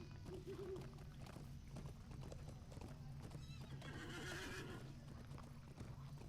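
Hooves of the horse Snowmane clip-clop in a steady rhythm in the LOTRO video game, with a clear whinny partway through over a low rumbling game backdrop.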